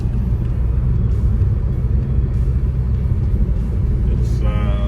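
A Toyota GR Supra MK5 A90 is driven, heard from inside the cabin as a steady, loud, low engine and road rumble that holds even throughout, with a brief tonal chime near the end.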